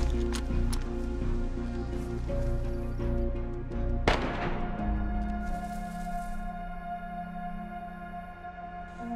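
Gunfire in the DayZ video game cracks out in a few sharp shots, one loud nearby blast among fainter distant pops, over steady in-game background sound.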